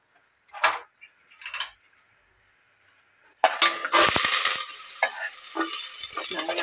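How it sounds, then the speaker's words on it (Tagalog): Ingredients sautéed in a pan for dinuguan, a Filipino pork blood stew: after two brief bursts and a short pause, a loud, steady sizzle takes over with scattered clinks and stirring knocks, close by. "magbigisa-gisa tayo"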